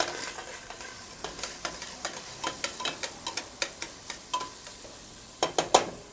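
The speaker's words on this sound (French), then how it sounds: "Notre huile est bien chaude, on l'entend." Hot oil sizzles steadily in a pan on a barbecue, with scattered crackles and pops that grow sharper toward the end; fairly quiet and close.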